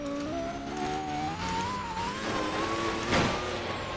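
Tuned Ducati Panigale SP2 motorcycle engine racing on a track in a video game, a steady high-revving whine with shifting pitch, rising and dipping as it accelerates, loud and close, with a brief louder burst near the end.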